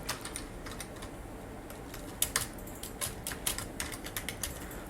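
Quick, irregular clicks of typing on a computer keyboard, fairly quiet and close, come in bursts with no talking.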